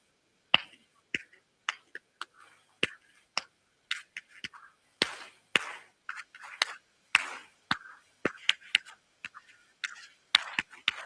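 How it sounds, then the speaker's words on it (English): A group claps and snaps fingers together in a steady rhythm, sharp dry cracks repeating through the whole stretch, close and clear with no talking. "we'll do our favorite clapping and snapping rhythm"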